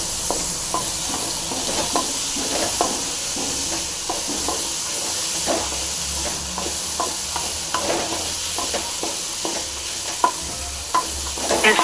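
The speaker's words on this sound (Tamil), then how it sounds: "அந்த கருப்பு கொண்டைக்கடலை போட்டுடலாம். போட்டு நல்லா ஃப்ரை பண்ணிங்க." Black chickpeas fry and sizzle in a pan with a steady hiss, while a spoon scrapes and stirs them in repeated, regular strokes close by; no one speaks.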